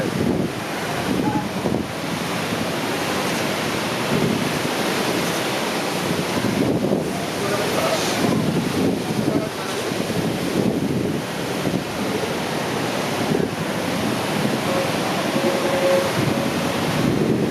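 Ocean surf at a Bahamas surf competition breaks steadily with heavy wind buffeting the microphone, a loud continuous roar of waves and gusts that swells and eases over time, no voices.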